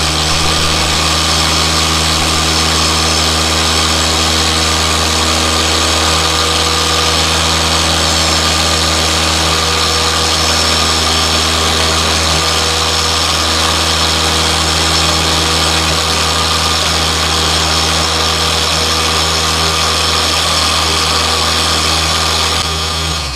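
A car polisher spinning a polishing pad, running as a loud, steady, close motor whine with a constant hum that holds without a break throughout.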